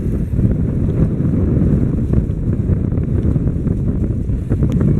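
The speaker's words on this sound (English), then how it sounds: "This wind is giving me a really tough time, guys." Heavy wind by the sea batters the microphone with a loud, unbroken low rumble during a motorcycle ride along the coast, with no voices.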